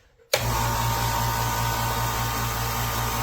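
A Nessxa 8-gallon 1.5 HP ultra-quiet air compressor kicks on after a brief near-silence, then runs with a steady whirring hum and airy hiss through a tube fitted to its muffler, constant and close, with no talking.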